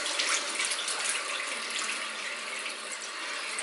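Water running from a bathroom tap into a sink as a face is wetted, a steady close splashing rush that carries on alone for a few seconds.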